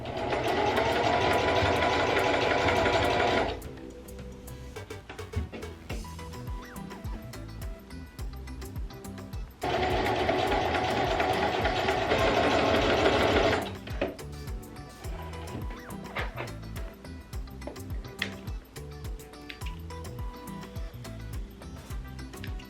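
A sewing machine stitches a branding tag into a dog bandana made from a thrifted T-shirt, running in two loud, steady bursts of rapid whirring with quieter handling sounds between them.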